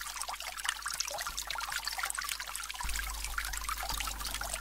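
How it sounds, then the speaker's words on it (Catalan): A fountain's water trickles and splashes steadily at close range, a continuous gentle stream with small drips, alone without talk and fairly quiet throughout. "Oh, quina font més maca."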